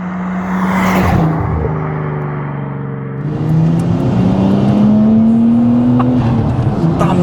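A Nissan Skyline R34 saloon on air-ride suspension, stock boosted engine, revs up with a smooth, steady rising drone and deep rumble, fairly loud and close, building in pitch through the middle and holding high.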